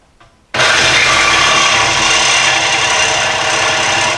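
A power tool cuts through a Jeep 4.0L exhaust front pipe at the first elbow. It starts abruptly after a brief quiet moment, then holds a loud, steady, harsh grinding whine close by for several seconds.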